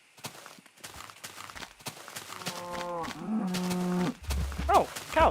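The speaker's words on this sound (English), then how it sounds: "Oh, cows. Thank you. I need those." Cows in the Minecraft video game moo several times in a row, drawn-out lowing calls that rise and fall, heard clearly over soft footsteps and game ambience without any talking.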